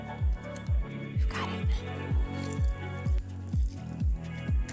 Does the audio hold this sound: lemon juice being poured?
yes